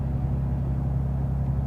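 Toyota Tundra with a Carven exhaust cruising at about 1,300 RPM and 35 mph, a steady low drone and rumble inside the cab, even and continuous without talk.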